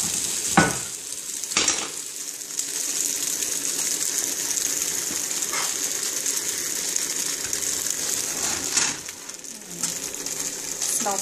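French toast, bread soaked in egg mixture, fries in a hot pan greased with cooking spray, giving a steady close sizzle with a couple of sharp clatters and occasional faint voice.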